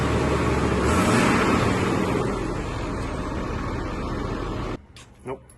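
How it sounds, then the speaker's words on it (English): A first-generation Ford Super Duty 6.7 PowerStroke diesel engine runs close by with a heavy, steady roar that swells briefly, holds for several seconds and then cuts away. "I'll give it a little rev and see what you hear"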